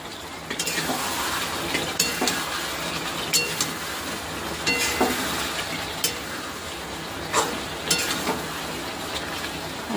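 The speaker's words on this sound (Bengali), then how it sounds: "এখন একটু ফুটিয়ে নিচ্ছি আবার" Leftover meat curry reheats in a pan with a steady low sizzle and bubbling. A spoon stirs and knocks against the pan at intervals, giving sharp clinks throughout.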